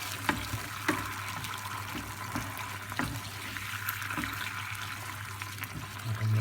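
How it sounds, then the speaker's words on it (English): Water is poured into a sauce simmering in a pan, a faint, steady trickle and gentle sizzle with a few soft clinks, no talking. "we can add a little bit more water, just so then it reduces down with all the flavour combined together"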